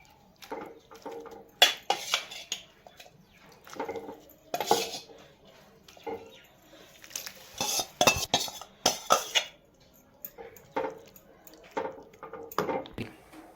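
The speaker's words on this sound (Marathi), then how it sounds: "आपण आता त्याच्यामध्ये भाजी टाकून देऊ" Chopped chickpea greens going into a pan for a traditional Maharashtrian garagati bhaji, with irregular clinks and scrapes of a metal spoon against the cookware and a few louder knocks, close up, without speech.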